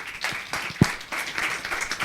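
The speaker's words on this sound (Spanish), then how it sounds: "Un aplauso, por favor." Brief applause from the audience at a scientific and political panel on climate change, a sparse patter of claps at moderate distance that fades quickly.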